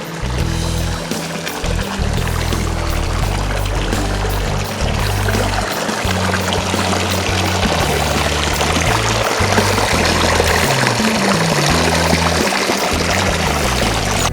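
Water from a small pump's return line pours steadily into a backyard fish tank, a loud, close, continuous splashing and gushing that runs without pause throughout.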